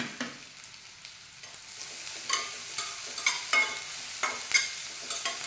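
Half a cup of onions sautéing in a pan for a home-style green peas gravy, with a soft sizzle under repeated scraping stirs of a spoon that grow more frequent toward the end.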